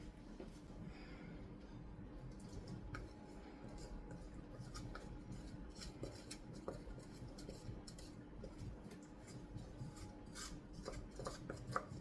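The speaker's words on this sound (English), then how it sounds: "Now I take the cool chocolate and butter and add it to my egg" Melted chocolate and butter being mixed into an egg mixture for brownies, faint scraping and clinking of a utensil against a bowl, soft and intermittent at close range.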